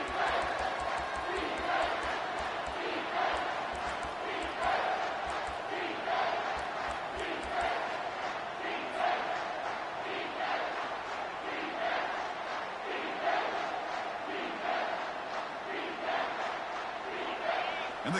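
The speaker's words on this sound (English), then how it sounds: "And the crowd coming to life here, trying to help this defense down in the red zone." Stadium crowd in the College Football 25 video game, a dense sustained roar of many voices with rhythmic chant-like pulses, steady and loud throughout, no distinct commentary.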